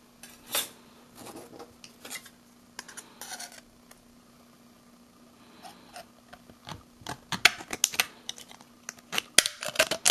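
A hand cutting tool snips through titanium scrap sheet in sharp metallic clicks and crunches, sparse at first and then more rapid and louder toward the end, over a faint steady hum.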